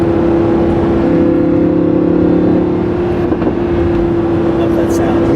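A Lamborghini Huracan LP 580-2 with its naturally aspirated engine rumbles in a sustained, loud, steady drone with a strong humming tone that eases slightly partway through.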